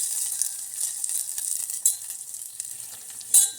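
Tomato gojju sizzles in oil in a pan with onion and curry leaves, a steady close crackling fry with occasional stirring scrapes, no voices.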